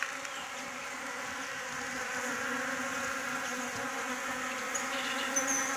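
Honey bees feeding on chopped corn in winter make a dense, steady buzzing hum of many insects up close, constant throughout.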